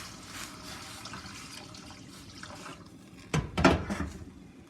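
Water poured into a pot of cooking moi moi (bean cake), a short splash and trickle arriving near the end after a steady low background hiss.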